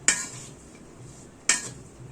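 A utensil clinks against a pan while green beans are stirred, giving two sharp, close metallic knocks about a second and a half apart over a soft background.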